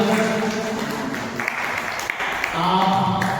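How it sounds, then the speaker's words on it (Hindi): An audience claps to welcome a GST department assistant commissioner onto the stage at a traders' event in Mandi Dhanora, Amroha, a dense, loud applause with voices mixed in. "तालियों से स्वागत।"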